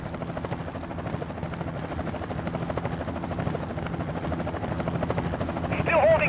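Helicopters flying in during a Ghost Recon Advanced Warfighter battle, a continuous loud rotor thump and engine drone that grows slightly louder toward the end, with radio voices over it.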